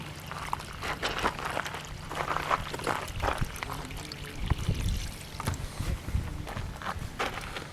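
Water poured to flush out a gold prospecting sample at a desert claim near Quartzsite, Arizona, a soft trickle and splash with light handling knocks, close and fairly quiet, with no talk.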